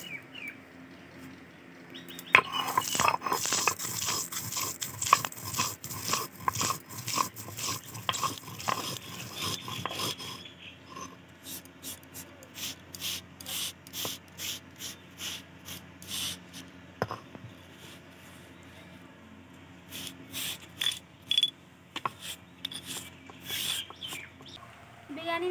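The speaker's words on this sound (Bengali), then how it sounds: "এখন এই মশলাটাকে শিলে বেটে গুঁড়ো করে নেব।" Dry-roasted biryani spices ground on a stone grinding slab, rhythmic rasping strokes of stone on stone, dense and loud at first, then sparser rubbing, with faint bird chirps in the background.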